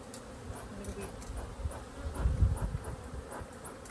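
Honeybees buzz around their hive during a hive inspection with smoke, a low, steady drone with faint higher whines of individual bees passing, rising briefly in the middle, with no talking.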